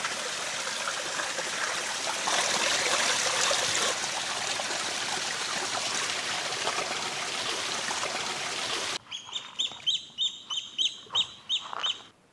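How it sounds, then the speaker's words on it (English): Steady rush of flowing water from a mountain stream in the Arctic fills most of the clip before cutting to a series of rhythmic bird or duck calls. "we got fresh water running down from the mountain"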